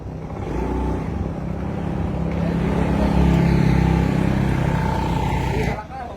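A motorcycle fitted with LED wheel rim lights rumbles steadily at close range, its engine noise building slightly before dropping away abruptly near the end.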